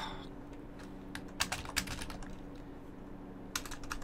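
Keys on a computer keyboard are tapped in short irregular bursts, crisp clicks close by over a steady low hum, with a pause in the middle before a final cluster of presses.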